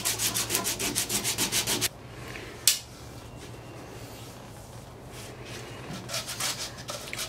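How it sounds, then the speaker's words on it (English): Fine 220-grit sandpaper rubbing wooden table legs during a table restoration, starting with a quick run of rhythmic, close back-and-forth strokes. After a sharp knock the sanding continues as softer, scattered scraping. "Tyler is doing the final 220 sanding on the legs"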